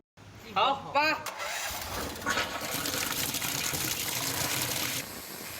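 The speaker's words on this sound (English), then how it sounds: "Under the high pressure of the water gun, the thick moss covering the ground is washed away" A high-pressure water gun sprays hard across a brick ground surface, blasting away thick moss. The steady, loud hiss and rush of water holds for several seconds, after brief voice-like sounds at the start.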